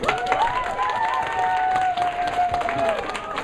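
Students at a school book-talk event clap together, the applause mixed with chatter and young voices calling out over it.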